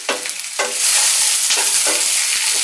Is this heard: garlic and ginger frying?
yes